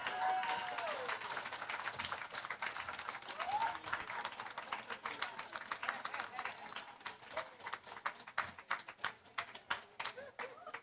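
An audience at an outdoor poetry event applauds, a crowd's clapping swelling and thinning into scattered claps, with a brief voice early on.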